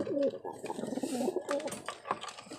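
Pigeons eating and cooing nearby in soft repeated low coos with a few faint chirps and light scuffling, fairly quiet throughout.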